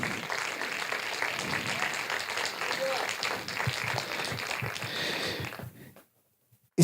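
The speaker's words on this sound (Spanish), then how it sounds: "si va a darle un aplauso, déselo con ganas al Señor" Church congregation applauding during a Spanish-language worship service, a dense steady wash of many hands clapping with voices mixed in, continuing for several seconds before cutting off abruptly into silence.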